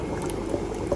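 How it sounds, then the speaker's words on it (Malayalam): Arabic-style mutton curry with vegetables boiling in a pot, a steady close bubbling and blipping that fills the whole second without pause. "നമ്മൾ ഇറച്ചിയും പച്ചക്കറി ഏകദേശം വേവാനായി അഞ്ച് മിനിറ്റ് കൊണ്ട് തിളപ്പിച്ചാൽ"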